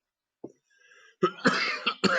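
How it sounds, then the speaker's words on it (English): A person coughs in a short burst: one quick cough, a brief breathy pause, then several rough coughs in close succession, close to the microphone. "I'm sorry about this cough."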